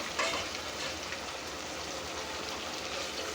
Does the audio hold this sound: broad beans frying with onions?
yes